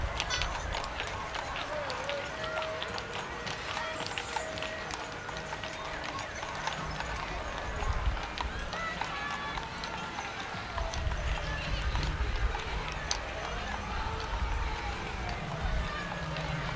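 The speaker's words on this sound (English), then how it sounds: "a number of entries here of the horse and wagon type" Horses pulling wagons clip-clop steadily on pavement in a Santa Claus parade, with crowd chatter and an announcer's voice over the rhythmic clatter.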